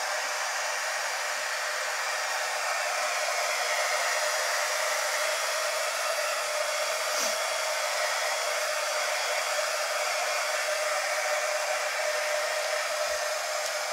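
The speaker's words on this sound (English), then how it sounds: "this is my embossing gun, so this gets really hot" An embossing heat gun for crafting blows hot air in a steady, loud, unbroken whoosh like a hair dryer, running alone the whole time with no voices.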